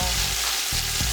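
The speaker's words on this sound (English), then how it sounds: "We'll start off by sauteing our tomatoes." Tomatoes sautéing in a pot give a steady, close sizzle and hiss throughout, with a low hum and brief stirring interruptions, and no voices.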